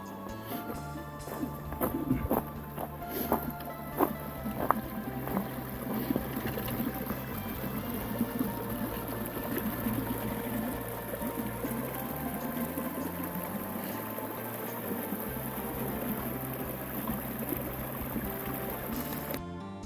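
Footsteps splash through water running over a mountain trail below Forester Pass, with irregular sloshing steps up close over steady flowing water, loudest early on and settling into a continuous wash.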